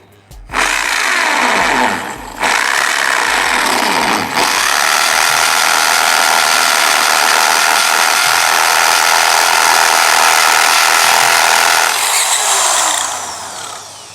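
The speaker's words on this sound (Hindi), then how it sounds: "जैसे ही मैंने ड्रिल को रखा और स्विच को दबाया तो यहाँ पे छेद पड़ गया" A powerful hammer drill bores a hole into a brick, giving a loud, continuous grinding whir close by that runs steadily for about twelve seconds after a brief stutter at the start.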